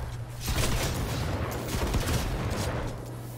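Continuous heavy gunfire from a video game, a dense, steady fusillade of rapid shots and booms that fills the short stretch without pause, loud and close with no talking.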